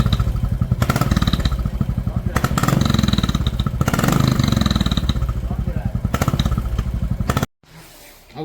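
Royal Enfield Classic motorcycle fitted with a rubber silencer on its exhaust, idling with a steady throbbing thump that runs loud and close for about seven seconds before cutting out abruptly.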